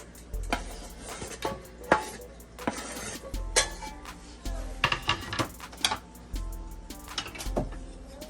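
Bacon hits a hot non-stick pot, and irregular clinks and taps of cookware follow, fairly quiet against a faint background hum.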